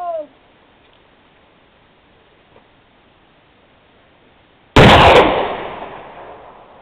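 A percussion cap muzzleloader fires outdoors on a mountainside, a single sharp loud report that rings and decays over a couple of seconds after a long near-silent pause.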